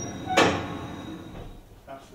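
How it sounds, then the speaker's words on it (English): A heavy kiln door at a distillery bangs shut with one sharp, resonant impact, followed by a fading rumble and a softer knock near the end. "here's the sound of the kiln doors closing"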